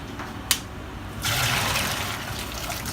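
Boiled pasta water for penne pours from a pot through a strainer, a steady rushing splash starting about a second in after a brief clank, continuing loud and close to the end.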